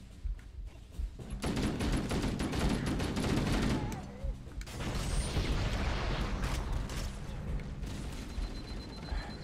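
A Covenant turret firing in the Halo video game, a dense crackle of rapid fire that swells, drops briefly and resumes, with a voice talking over it.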